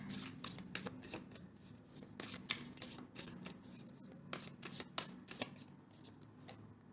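Tarot cards shuffled by hand in a quick run of crisp riffling snaps and flutters, soft and close, with no speech over them.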